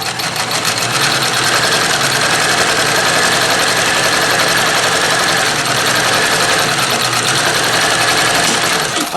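A vintage Dressmaker sewing machine runs continuously at steady speed, its loud, close mechanical whir and rapid needle clatter holding unbroken for the whole stretch.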